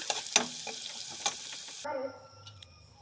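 Chopped green chilli and onion frying lightly in a pan for pulao: a steady, close sizzle with a few stirring knocks that drops off partway into quieter clinks and a faint hum.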